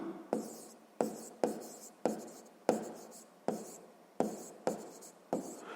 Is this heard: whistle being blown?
no